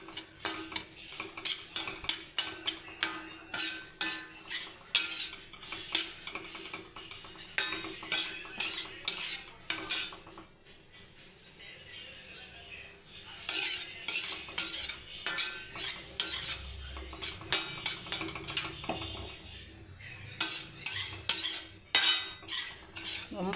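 Rice flour being dry-roasted in a pan for puttu, a metal spoon scraping and clinking rapidly against the pan in steady repeated strokes, with a brief quieter pause in the middle.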